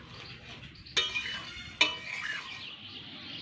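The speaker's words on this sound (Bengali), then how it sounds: "এবার এটাকে নেড়ে চেড়ে একটু ফুটিয়ে নিয়েই নামিয়ে নেব।" A spoon is stirring bata fish curry with potato, soybean chunks and garam masala paste in a pan, giving two sharp metallic clinks against the pan over a faint, steady simmering hiss.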